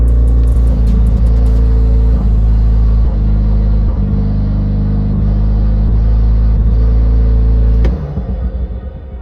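A BMW M2 engine holds high revs on launch control, a loud, steady, close-up roar that drops away abruptly near the end.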